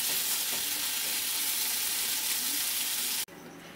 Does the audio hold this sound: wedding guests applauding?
no